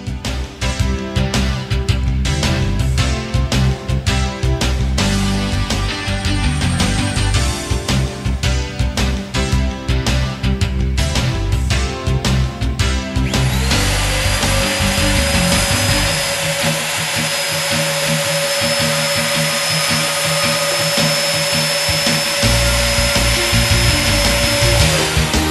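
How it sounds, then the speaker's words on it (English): A Hoffmann PP2 NCF programmable multi-keyway dovetail routing machine runs loud and steady, with rapid rhythmic cutting bursts that give way to a sustained high whine from the spinning router as it cuts. "is our model PP2 NCF Dovetail Routing Machine"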